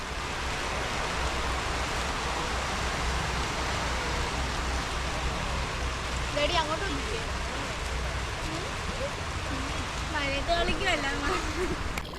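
Heavy rain pouring outside a houseboat, a steady dense hiss that fills the whole scene from start to finish, with faint voices talking briefly in the background.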